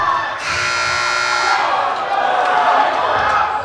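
Shot clock buzzer at a boys JV high school basketball game, a loud sustained electronic tone lasting over a second, sounding over a noisy gym crowd that keeps roaring and murmuring afterward.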